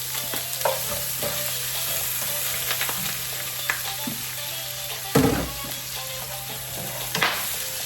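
Chopped onion fries in oil with bay leaves and a little sauce for a spicy coconut fish curry, a steady close sizzle broken by a few sharp stirring knocks.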